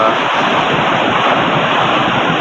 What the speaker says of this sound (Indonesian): Ombaknya menggulung.